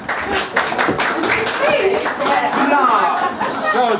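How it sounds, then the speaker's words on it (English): A family audience at a 60th wedding anniversary party claps and chatters for a woman being introduced, with steady close applause running the whole time and voices talking over it. "Round of applause"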